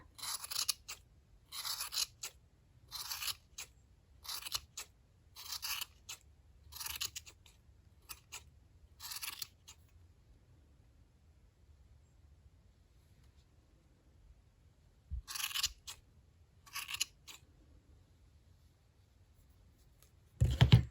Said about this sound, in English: It makes it easier to cut this many strands of yarn at the same time.